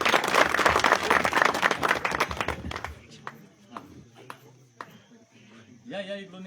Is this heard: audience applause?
yes